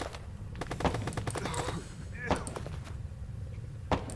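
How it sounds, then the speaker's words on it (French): Light machine gun firing during an airport assault, a rapid burst of sharp reports followed by further single and clustered shots, loud and cracking, with voices in the background. "Azimut 50, on a une mitrailleuse légère."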